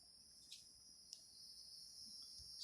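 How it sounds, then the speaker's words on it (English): Cicadas drone outdoors in a steady high, faint buzzing chorus with small swells, heard alone with no talk. "So the cicadas are yelling."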